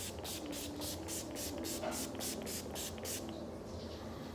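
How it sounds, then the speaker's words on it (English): Short bursts of makeup setting spray being pumped in a quick, even rhythm for about three seconds, close and fairly loud, each puff a brief airy hiss, before the spraying stops. "I'm just gonna go ahead and grab a little bit more of the spray,"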